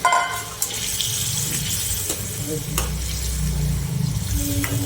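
Bottle gourd gravy goes into a hot pan of spices, and the oil sizzles steadily while a spoon stirs and scrapes with occasional clinks, loud and close throughout.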